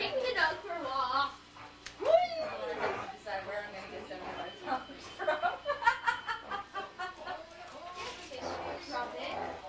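Dog whimpering and giving a few yips close by, heard under ongoing conversation and some laughter.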